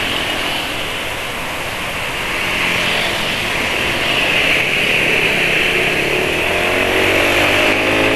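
A motorcycle engine drones hard at speed while racing a new NMAX scooter, a loud, steady whine with wind rush that swells slightly as it pulls.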